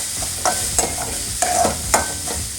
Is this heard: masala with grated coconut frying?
yes